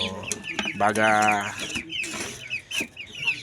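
Backyard chickens cluck and squawk up close, a loud rising cackle followed by scattered clucks, with a brief spoken word mixed in.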